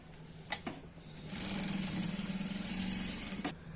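A sewing machine runs steadily for about two seconds while stitching a pant pocket, a close mechanical whir framed by a few sharp clicks before and after, with no talk.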